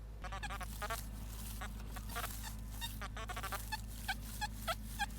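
An XP Deus metal detector swept over a patch of iron, giving short, faint chirping tones in scattered bursts over a steady low outdoor hum.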